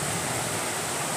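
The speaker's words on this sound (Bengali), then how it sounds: "বেশ ভালো জোরেই কিন্তু বৃষ্টি হচ্ছে।" Heavy rain pours down in a thunderstorm, a loud, unbroken broadband roar like rushing water that stays steady and close for the whole moment, with no voices over it.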